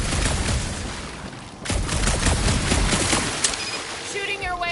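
Heavy gunfire in the video game Guardians of the Galaxy, a loud fusillade of repeated blasts and booms with a short lull partway through, mixed with game effects.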